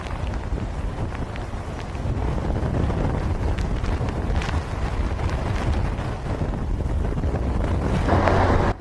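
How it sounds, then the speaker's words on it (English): Strong wind of Hurricane Charley, a steady loud roar buffeting the microphone with rumbling gusts that swell stronger toward the end. "Now with the wind starting to pick up rapidly, Chris and Jason still had time to play"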